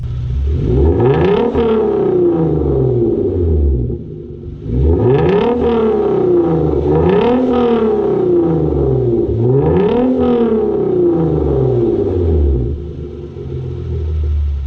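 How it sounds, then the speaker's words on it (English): A Hyundai Genesis Coupe engine with the cap on revs three times in succession, each throttle blip rising and falling in pitch over a steady loud idle rumble, nearby with no talking. "do a few revs with the cap on"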